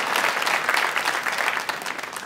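Sustained applause from a ballet talk audience, a dense, even wash of many hands clapping at moderate loudness from start to finish with no talk over it.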